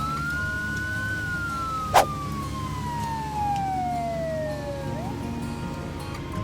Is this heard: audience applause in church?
no